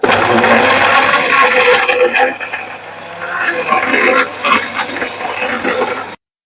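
An electric blender whirring as it mixes an Oreo milkshake with vanilla ice cream, a loud close grinding drone that rises and dips in pitch before cutting off abruptly.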